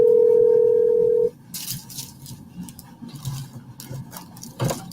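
A telephone dial tone on a call sounds as a loud, steady single pitch for just over a second, then cuts off, leaving quiet room noise and brief clicks.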